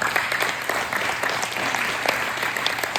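Gala audience at a dog-rescue charity event claps steadily, a close, even burst of many hands that carries on unbroken throughout.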